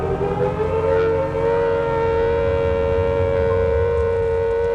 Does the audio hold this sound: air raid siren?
yes